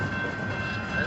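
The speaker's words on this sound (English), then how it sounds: "I don't remember how long this train was, but it should be ending." A BNSF empty intermodal freight train passing close by, a continuous loud rumble and rolling rail noise with a steady high squeal over it.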